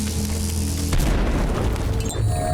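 A grenade goes off in the stealth-action game Dishonored, a loud deep boom followed by a rumbling tail of debris and crackle, with no talking.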